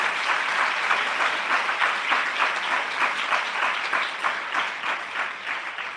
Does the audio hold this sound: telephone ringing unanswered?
no